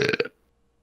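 A single short, loud burp from a man during a podcast, lasting under a third of a second and followed by near silence.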